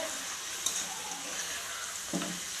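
Meat sautéing in a pan with turmeric and chili powder, a steady close sizzle with a couple of brief stirring scrapes, no talking.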